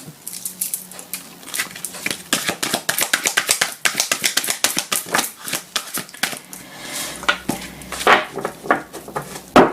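Tarot cards are shuffled by hand, a long run of quick crisp riffling taps and flutters close by, steady and busy throughout with no talking.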